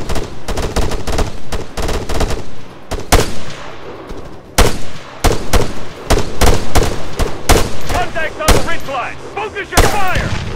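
Rapid rifle and machine-gun fire crack loudly and continuously in the ArmA 3 military shooter game, dense overlapping shots with occasional bursts and brief radio-style voice calls underneath.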